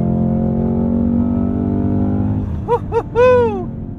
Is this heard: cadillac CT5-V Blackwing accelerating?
yes